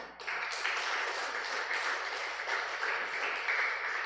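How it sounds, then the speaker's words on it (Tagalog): A church congregation at an El Shaddai prayer fellowship in San Jose del Monte, Bulacan applauds loudly, a steady, dense wash of many hands clapping together without pause. "At pumalakpak na malakas sa Diyos."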